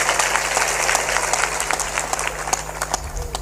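Audience applause during a Hindi religious discourse, a dense, loud burst of many hands clapping with sharp individual claps standing out, while a voice carries on speaking over it.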